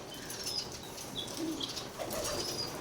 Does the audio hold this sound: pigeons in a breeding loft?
yes